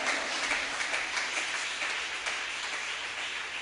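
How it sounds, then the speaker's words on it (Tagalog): Sustained applause from a church congregation, dense steady clapping filling the room at moderate level with no pauses, a continuous wash of many hands. "Palakpakan natin ang ating mahal na Panginoon. Yung malakas na palakpak."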